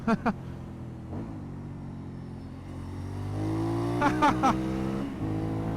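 A 2018 Aprilia Shiver 900 motorcycle engine drones steadily, then its pitch climbs as it accelerates to overtake, heard from on board with wind noise and a voice talking over it.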